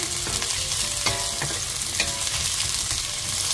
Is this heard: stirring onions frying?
yes